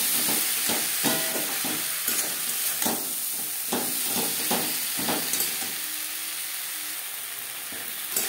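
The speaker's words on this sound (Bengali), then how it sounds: "মিডিয়াম ফ্লেমে 4-5 মিনিট মশলার সাথে বেগুন রান্না করে নেব।" Eggplant frying with spices in a pan over medium flame: a steady, close sizzle and hiss runs throughout, broken by regular scraping stirs of a utensil against the pan, with no talk.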